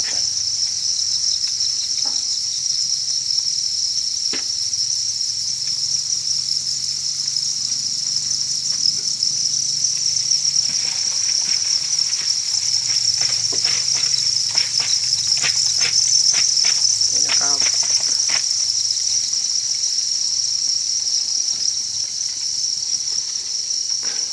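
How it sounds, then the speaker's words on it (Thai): A dense, steady chorus of farmed crickets chirping throughout, loud and continuous, with a few brief clicks and taps near the middle. "จิ้งหรีด"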